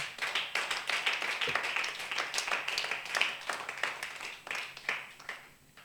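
A church congregation claps steadily to acclaim the Lord during a prophetess's service, many hands beating in a dense, lively rhythm that carries on throughout before thinning at the end.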